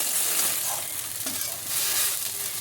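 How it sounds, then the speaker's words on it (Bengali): Ginger-garlic paste fries in a pan over a medium flame with a continuous close sizzle and soft stirring underneath, and no one speaks. "আদা রসুনের পেস্টটা দিয়ে কিন্তু খুব ভালো করে কষিয়ে নিতে হবে"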